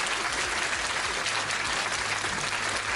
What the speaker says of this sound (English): We're going to give you a round of applause, Melindy.